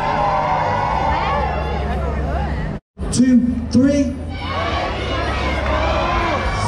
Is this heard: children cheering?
yes